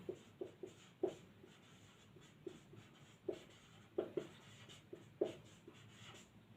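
Chalk taps and scratches on a board during a geography lecture in a quiet room, coming in short separate strokes and clusters with brief gaps between them.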